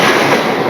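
A model railway train runs along its track, a loud, continuous close-up rumble and rattle of small wheels over rails.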